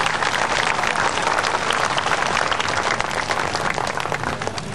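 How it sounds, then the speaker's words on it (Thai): Crowd at an outdoor political rally in Korat, Thailand, clapping hard, a dense and steady wash of applause that fills the whole stretch with no break and no voices on top. "ปรบมือให้กับตัวเองด้วยครับ"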